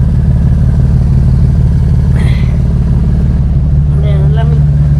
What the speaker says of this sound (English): you can hear the car running.